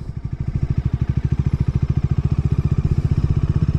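A 400cc sports tourer motorcycle engine at low rpm around 1200, a loud close rapid thumping pulse, even and steady throughout, with no talking.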